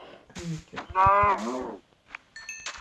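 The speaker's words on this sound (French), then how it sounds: "Une vache." A cow moos in the Minecraft Pocket Edition video game: a short, clear, close low lowing call that rises and falls, with brief game clicks around it and no talk.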